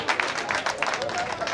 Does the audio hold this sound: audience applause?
yes